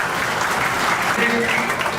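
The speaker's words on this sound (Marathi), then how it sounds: "तर याबद्दल आपण सर्व उभं राहून एक जोरदार टाळ्या वाजवू त्यांच्यासाठी." Standing applause for the teachers at a school batch reunion, a brief burst of dense clapping from a crowd, with voices mixed in.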